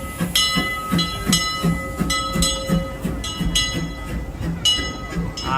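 Disneyland Railroad train with the E.P. Ripley steam locomotive, a steady rhythmic clatter of cars rolling along the track with bright metallic squeals, close and continuous for several seconds.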